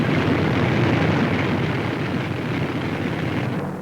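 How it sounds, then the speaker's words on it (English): Dense, continuous roar of B-24 Liberator bomber engines droning in wartime flight, a thick loud wash of propeller and engine noise with no breaks, in old 1943 newsreel sound over the Mediterranean. "More than 175 giant Liberators streaking across the Mediterranean, and not an enemy plane in sight."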